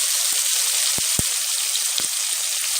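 Loud, steady sizzling of onion, tomato and curry leaves frying in hot oil for a tempering, with a few sharp pops crackling through the continuous hiss.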